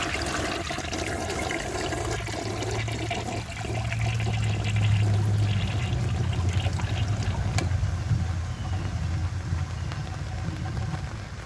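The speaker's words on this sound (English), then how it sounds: "For the first flush test, let's see how it flushes with a dry bowl." A 1982 Crane Dalton toilet flushes with a dry bowl, a close, steady rush of water filling the bowl that swells into a weak gurgle but does not fully siphon, then keeps trickling.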